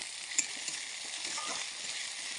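Chicken masala with chili powder, chopped tomato and green chilies being stirred in a pan, a steady close sizzle with a faint scrape of the spoon.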